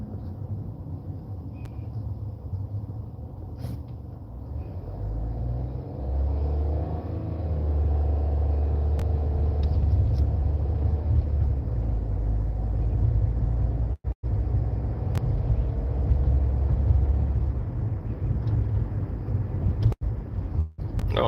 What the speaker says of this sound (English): This car sounds like the transmission is about to go at any moment.